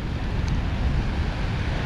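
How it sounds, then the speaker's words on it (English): Steady wind buffeting a microphone outdoors at a fishing spot, a constant low rumble with no voices. "Well, it's a windy day."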